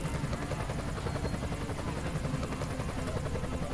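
A rescue helicopter in the emergency-services game Emergency 2016, a continuous rhythmic rotor thump and engine drone, steady and close, with no talking.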